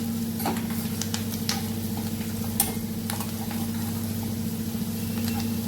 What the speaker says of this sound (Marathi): छान कांदा होऊ द्यायचा तेलामध्ये आणि लसणाच्या त्या कळ्या बारीक बारीक कापून घेतलेल्या आणि दालचिनी